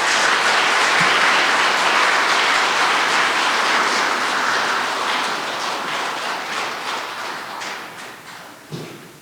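A church congregation applauding to welcome a visiting Catholic priest before his Advent talk, dense sustained clapping that swells early and gradually thins out, with a soft thump near the end.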